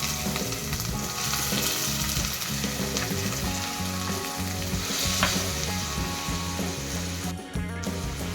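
Tomatoes frying in a kadai after ginger-garlic paste has browned, giving a loud, continuous close sizzle with faint stirring clatter throughout.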